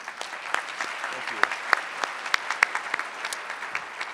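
Applause for award finalists at the 2013 Mary Catherine Strobel Awards, a moderate round of clapping with distinct individual claps from a modest crowd, and a brief spoken thanks over it.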